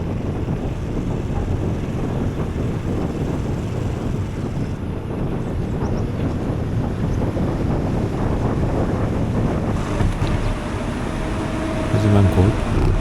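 Steady, loud wind buffeting the microphone while riding a bicycle downhill on a coastal touring route along the East Sea, a constant broadband roar filling the whole stretch.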